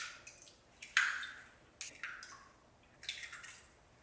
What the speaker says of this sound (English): I've got 12 large eggs and I'm going to crack them and add them into a measuring jug